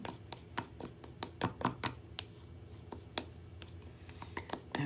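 A stir stick mixes gold wax paint, a series of close, irregular scraping and tapping clicks, some bunched together, with faint quiet sounds between them.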